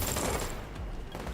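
Rapid gunfire in The Division 2, a brief dense fusillade of overlapping shots with a bright ringing tail. It is loud and close, with no voices.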